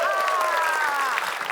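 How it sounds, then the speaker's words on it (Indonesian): Brief applause from a crowd, dense and steady, with a sustained tonal whistle or music line running through it. "Kita kasih tepuk tangan dong untuk tim A"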